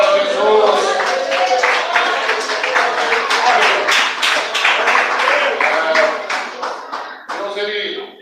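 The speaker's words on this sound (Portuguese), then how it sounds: "Pode sentar, bater palmas e dar glória a Jesus." A church congregation claps together in praise during a worship service, dense overlapping hand claps filling the room, sustained and fairly loud with voices mixed in, fading near the end.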